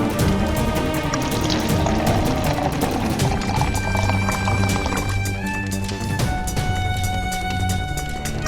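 Water pouring steadily into a pot for tea, a continuous loud splashing gush that runs throughout with little change.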